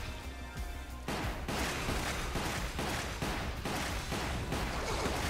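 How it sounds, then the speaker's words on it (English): Repeated gunshots from a handgun firing into a creature's head in Resident Evil: The Umbrella Chronicles, heavy thudding reports in a rough steady rhythm over a loud, dense game backdrop, with no clear talk. "How many bullets must I shoot into your head?"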